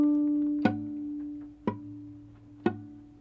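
Guitar strings plucked with flattened fingertips that mute neighbouring strings, giving three dull, slightly buzzy plucks about a second apart over a sustained low note, close and quiet.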